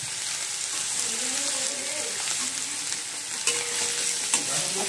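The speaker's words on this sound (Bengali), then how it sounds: "এই যে সবজিগুলো ভাজছি।" Vegetables frying in a pan for fried rice give a dense, continuous close sizzle with stirring scrapes and a few sharper clinks, with no one speaking over it.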